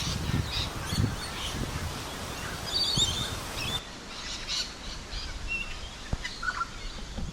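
Birds call and chirp outdoors in a dry swamp in Queensland, Australia, over a loud, rustling background, with several brief tweets scattered throughout.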